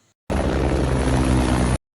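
A helicopter engine roars in a loud, steady, dense drone that cuts in abruptly and stops just as suddenly after about a second and a half, with no voices.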